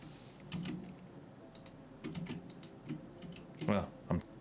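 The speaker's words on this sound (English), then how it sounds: "Well, I'm typing at the wrong place." Computer keyboard typed in short irregular bursts of light clicks, fairly quiet, with a faint murmur of background sound underneath.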